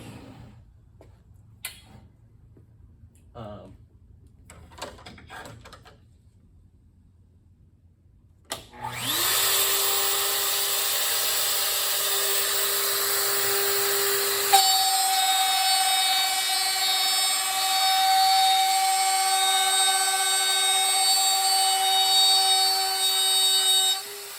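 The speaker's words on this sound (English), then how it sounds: "we're going to cut a dado in this plywood here" Router on a Safety Speed Cut panel router cutting a dado in plywood: after a few quiet clicks and taps, the motor starts abruptly and spins up to a loud, steady high whine that continues to the end, with a slight shift midway.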